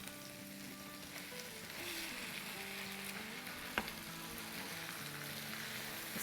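Bone-in chicken fries with ginger, garlic and curry leaves in a pan, giving a steady, close sizzle with brief crackles and a single sharp pop. No one speaks.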